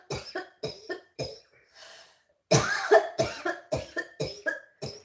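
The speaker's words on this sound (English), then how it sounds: "There's your patented cough." A man coughing in a repeated series of sharp, harsh bursts close to the microphone, broken by a short pause and then a second, louder run of coughs.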